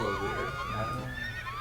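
A horse neighs in the Zelda Four Swords Adventures video game, a short, faint whinny sliding up and down in pitch, with game music and sound effects layered around it.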